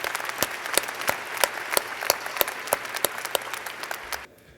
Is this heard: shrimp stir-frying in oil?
no